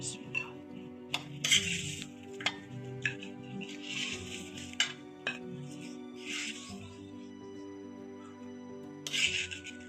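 Cooked namkeen gosht, about a kilo of mutton browned in ghee, is scraped from a pot onto a plate: repeated metal clinks and scrapes of a spoon against cookware, moderately close, with quiet rustling between the sharper knocks.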